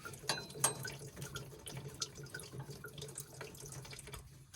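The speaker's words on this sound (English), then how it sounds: "Drain the fuel off." Diesel fuel drains from a fuel filter head with the top plug removed, a soft continuous trickle and splash with a few brief drips and clinks, faint and close, no talking.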